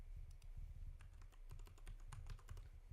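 Quiet, quick keystrokes on a computer keyboard as a password is entered, a run of light irregular clicks close by with no talk.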